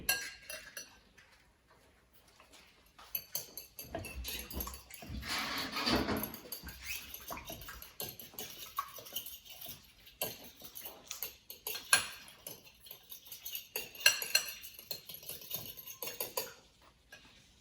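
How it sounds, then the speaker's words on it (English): An egg whisked in a bowl, quick irregular clinks and ticks of utensil against the bowl, faint and close, with bursts of rapid tapping spread across the stretch. "Now, you're going to whisk the egg."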